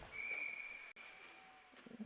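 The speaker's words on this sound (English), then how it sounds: "And a whistle blows it dead." Referee's whistle at an ECHA playoff ice hockey game between George Mason and William Paterson, a single long, steady blast that stands out clearly over a noisy arena crowd and then cuts off.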